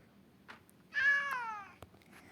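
A house cat meows once, a clear close drawn-out call about a second long, with faint soft rustles before and after.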